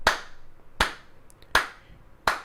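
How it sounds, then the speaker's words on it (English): Four slow, evenly spaced single claps ring out, each sharp and close against a quiet background. "slow clap."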